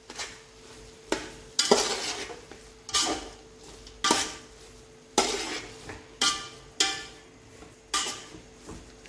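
A spoon scrapes and knocks against a pan as Satyanarayan prasad is mixed with cardamom powder, giving rhythmic strokes about once a second over a faint sizzle, close and with no speech.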